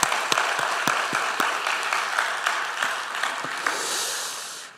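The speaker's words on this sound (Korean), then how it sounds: "우리에게 큰 은혜 주신 하나님께 박수로 영광 드립시다" A church congregation at an evening revival service applauds in praise, a continuous wash of clapping with a few sharper individual claps standing out near the front, tapering slightly at the end.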